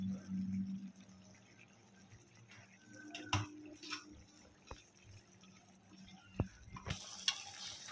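Goat tripe (boti) fries in a pan with turmeric, a soft sizzle under occasional utensil taps and scrapes, quiet and close, with a brief brighter hiss near the end.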